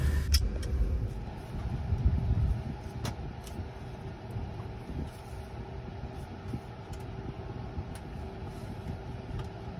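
A GAC Aion Y Plus electric car drives along in Indonesia, giving a smooth, steady road and tire hum with faint interior clicks and no talking.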